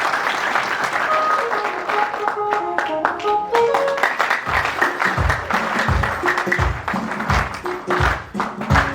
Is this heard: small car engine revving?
no